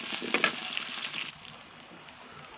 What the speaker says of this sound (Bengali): তেলটা গরম হয়ে গিয়েছে, পেঁয়াজ দিয়ে দেবো।